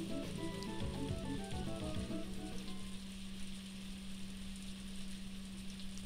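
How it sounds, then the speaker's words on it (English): Rain in the video game Story of Seasons: A Wonderful Life, a soft continuous hiss under a faint steady hum, with gentle game music at the start that fades out. "It sure do be raining though."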